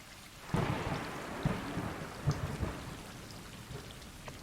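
Steady rain pours down while several deep thunder claps boom out, each rolling off before the next, filling the night with a heavy storm.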